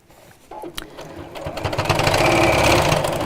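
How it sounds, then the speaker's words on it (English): A sewing machine runs a line of top stitching on fabric, starting slowly and speeding up to a steady, rapid whir near the microphone. "So literally just top stitching."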